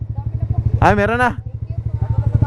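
A motorcycle engine idles and putters steadily in a regular rhythm up close on a slippery rocky dirt road at Monte Cristo, with a short burst of speech in the middle.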